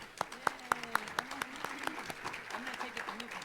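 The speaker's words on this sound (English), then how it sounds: "Big applause for them" Scattered audience applause for panelists at a legislative town hall meeting, fairly faint, with distinct individual claps standing out over a low background murmur of voices.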